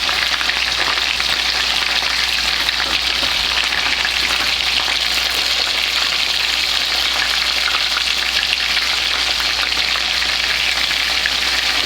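Fish pieces fry in hot oil after being turned over, a loud continuous crackling sizzle heard up close and unbroken throughout.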